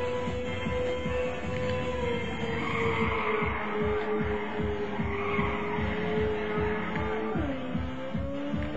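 Race cars in the Ridge Racer video game skid with a steady engine drone and sustained tire squeal, a bumpy rumble running under it, loud and continuous throughout.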